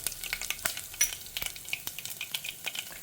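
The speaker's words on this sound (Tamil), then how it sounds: "கடுகு இப்போ நல்லா பொரிய ஆரம்பிக்கிறது." Mustard seeds sputter and pop in hot oil in a pan for turnip kuzhambu, a dense close crackle of sharp bursts over a steady sizzle.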